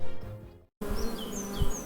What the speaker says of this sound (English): I keep bees here, on the top of Alfred Bird's old custard factory.